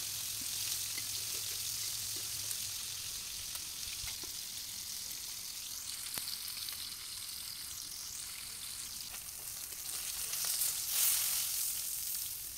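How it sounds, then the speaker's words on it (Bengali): Pangas fish pieces fry lightly in oil in a village kitchen, a soft steady sizzle and hiss with a few faint clicks and stirring sounds, quiet and without speech. "মাছগুলো না উল্টে পাল্টে দুই পিঠে হালকা করে ভাজে নেব"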